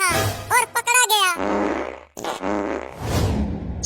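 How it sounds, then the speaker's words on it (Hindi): A cartoonish fart sound effect in a comic Hindi scene, heard as several sputtering bursts followed by a longer rumbling blast, mixed in with exaggerated vocal reactions from people talking. "छी छी छी छी, कितना पादता है।"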